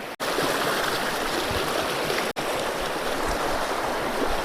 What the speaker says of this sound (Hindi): देखिए कितना तेज़ी से गंगा जी की धारा बह रही है